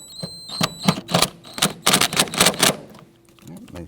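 Hand tool tightening hose clamps on a Nissan Frontier heater hose, giving a string of sharp, close clicking and ratcheting bursts with short pauses between them.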